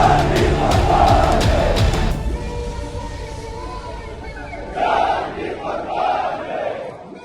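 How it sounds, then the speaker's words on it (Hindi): Large crowd in Kargil, Ladakh, gathered for Iran's supreme leader, chanting and shouting loudly in unison, easing off mid-clip before another strong surge of massed voices. "ये भीड़ ईरान के सुप्रीम लीडर के लिए आई है"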